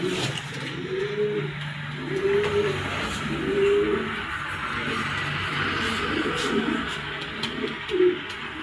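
Pigeons offered for sale coo nearby in a repeated series of soft, rolling calls about once a second, with low background rumble and faint clatter around them.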